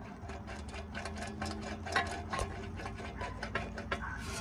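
A worn wheel bearing hub from a Mercedes-Benz CL550, spun by hand, gives off a gritty, rhythmic grinding and scraping with friction, quiet and close, pulsing irregularly without any talk.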